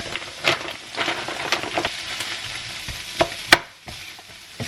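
Cold cooked rice from the day before is stirred around a hot frying pan, a soft continuous sizzle broken by scraping spatula strokes and a few sharp clacks, close up.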